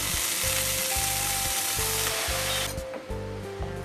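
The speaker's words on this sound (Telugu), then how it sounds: "కొంచెం నూనె వేసుకొని ఇలా శుభ్రంగా కడిగి పెట్టుకున్న చుక్కకూర వేసుకొని వేయించుకుందాం" Freshly washed sorrel leaves fry in a little oil in a pan, giving a loud, close, continuous sizzle with pulsing crackle that eases slightly toward the end, with no voices.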